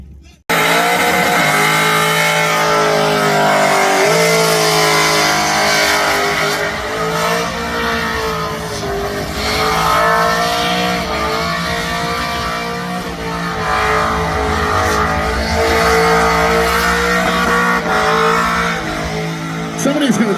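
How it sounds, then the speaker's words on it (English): Race cars skid and rev during round one qualifying at a motorsport event at Wellcamp, a loud, continuous engine roar with tire noise throughout, under a commentator's talk. "That was a top-notch skid."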